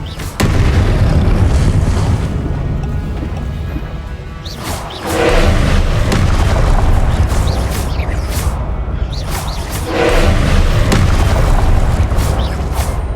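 Confringo spell explosions in Hogwarts Legacy, a few loud booming blasts several seconds apart, each with a long rumbling tail over dense combat effects.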